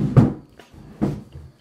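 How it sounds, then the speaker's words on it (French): Creaking and knocking of a chair close behind, two distinct bursts of clunky movement with quieter rustling between, in a room where bike scooter parts are being set up. "Désolé pour le bruit derrière, c'est ma chaise."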